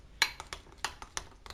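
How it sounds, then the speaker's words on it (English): Melted chocolate mixture for brownies being stirred in a bowl, a handful of light clinks and taps of the utensil against the side in an uneven rhythm, close and fairly soft. "stirring this around now"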